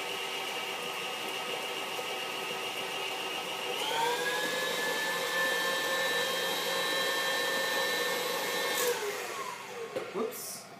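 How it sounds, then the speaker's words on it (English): A stand or hand mixer creams chocolate oatmeal cookie dough with a steady whir. The pitch lifts partway through as the speed rises, then the motor spins down at the end, close and loud. "I'm going to cream this for a little bit longer"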